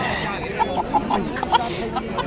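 Chickens and a rooster cluck in a quick series of short, close calls over a murmuring background at a market.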